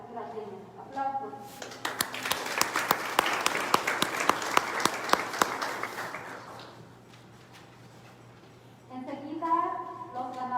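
An award-ceremony audience for comic, cartoon-strip and graphic-novel prizes breaks into sustained applause with sharp individual claps, swelling then fading, with a presenter talking briefly before and after.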